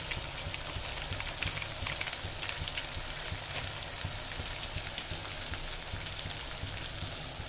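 Spices fry in hot oil in a pan for a fish spice curry, a steady close sizzle with crackling that keeps going throughout as the mixture is stirred.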